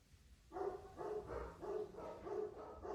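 A dog barks indoors in a steady run of about five evenly spaced woofs, fairly faint and alone, with no talk over it.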